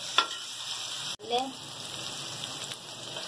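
Liver masala, tawa kaleji fried with ghee on a hot tawa, gives a steady soft sizzle with a couple of brief clinks and scrapes as it is stirred, fairly close and low in level, with no talking.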